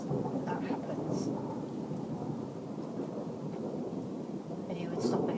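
Thunder rolls through a thunderstorm as a continuous deep rumble over steady rain, loud and enveloping for the whole stretch, with a faint voice at moments.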